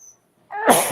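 A single sharp sneeze bursts out after a brief quiet, close and loud.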